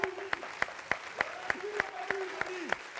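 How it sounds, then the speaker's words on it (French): Faint, rhythmic clapping at an artists' collective event, sharp evenly spaced claps roughly three per second from a small group, with voices talking quietly underneath. "On applaudit, s'il vous plaît, pour le Cabri."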